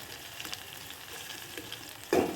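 Ten to twelve crushed garlic cloves frying in a pan for tomato rasam, a soft continuous sizzle with faint stirring ticks, then a louder burst of crackling near the end.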